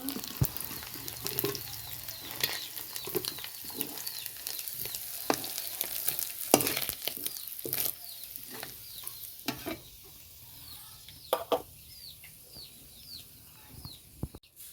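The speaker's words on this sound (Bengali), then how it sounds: "চিংড়ি মাছগুলো লাল লাল করে ভাজা হয়ে গেছে" Shrimp frying with a sizzle and repeated sharp scrapes and clinks of stirring, fairly quiet, while birds chirp and a hen clucks faintly in the background.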